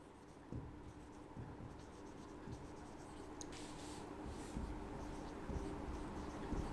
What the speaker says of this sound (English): So let us write down the formula for the efficiency.